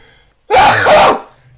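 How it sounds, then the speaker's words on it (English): A single loud, close sneeze bursts out after a brief quiet moment, then fades into soft background hum. "I need to sneeze."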